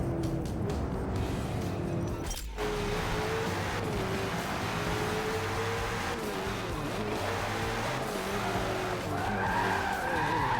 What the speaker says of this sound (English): the car needs to be spinning out every time